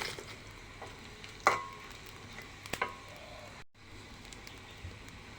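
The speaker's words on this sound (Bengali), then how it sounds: "তারপরে দারচিনি, এলাচ, জিরে এগুলো দিয়ে দিব। দিয়ে কিছুক্ষণ নাড়াচাড়া করে" Whole spices, cinnamon, cardamom and cumin, stirred in a pan while cooking chicken curry, with soft sizzling, a few sharp clinks of the spoon against the pan and a brief dropout.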